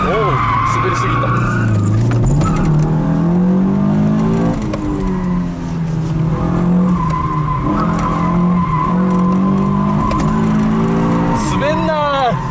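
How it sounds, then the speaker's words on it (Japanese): A Mazda NA drifts on a handbrake pull, its tires sliding and skidding loudly over a revving engine, close up, while people talk over the sound. "まずここでサイド引いて、 おお滑りすぎた"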